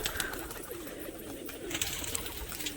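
A domestic house pigeon coos softly and steadily at close range, low murmuring calls over a faint, constant background hiss.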